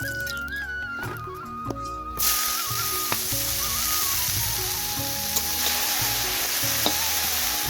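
Koi fish hitting hot oil with nigella seeds, bay leaf and green chili, a sudden loud burst of sizzling that then settles into a steady, close frying hiss with occasional pops.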